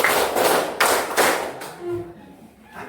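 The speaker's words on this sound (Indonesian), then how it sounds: "Tepuk 1, tepuk 2, tepuk 3, tepuk 4." Hands clapping in a counted rhythm, a few sharp separate claps in the first half that fade to quiet, with faint voices in the background.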